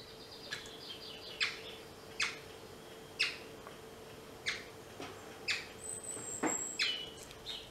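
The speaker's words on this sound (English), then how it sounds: "I find it amusing that Norbu, our sparrow, is sending it kisses out of the window." A pet sparrow chirps at a window in North West Tasmania, giving a series of short, sharp, fairly close tweets spaced about a second apart over a faint steady hum, with no talking.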